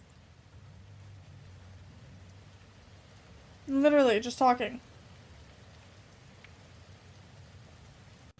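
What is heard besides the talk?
heavy rain in a horror video game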